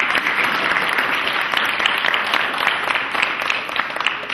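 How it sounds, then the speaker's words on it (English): An audience at a men's community event applauds the county executive, a thick continuous burst of clapping, loud and near, holding steady without voices. "Let's give him another round of applause"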